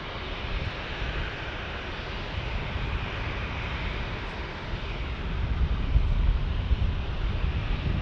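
A JetBlue airliner lands at San Diego airport, a steady broadband jet roar with wind rush that swells slightly toward the end, heard from a distance with no voices.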